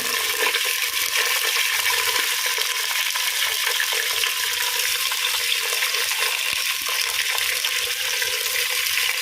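Fish fries in plenty of hot oil with a steady, loud, dense crackling sizzle that holds level throughout, with scattered sharper pops and no talk.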